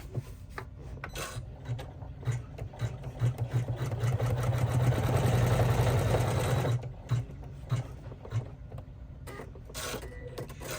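A Janome 500e embroidery machine stitches with a steady mechanical whir and rhythmic needle clatter, swelling into a louder continuous run midway, then stopping and starting in short bursts, close up with no talk.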